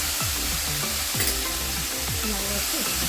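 Ash gourd fries in a pan under a steady, dense sizzle while a spatula scrapes and stirs it in repeated sweeping strokes, close and fairly loud.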